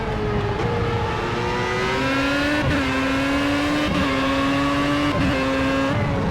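Formula A race car engine from Project CARS at Brands Hatch, a loud, steady high-pitched whine with quick upshifts every second or so as the car accelerates along the track.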